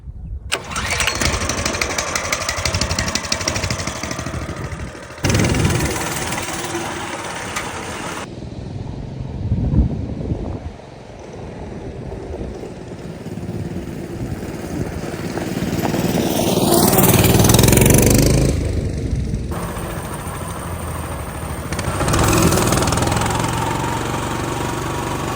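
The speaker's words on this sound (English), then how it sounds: "We are back on the bike. Let's fire this thing up" A mini bike engine is started and left idling at an off-grid camping site, a loud, steady, rough small-engine drone with a few revs swelling up and down, close by, with no talk.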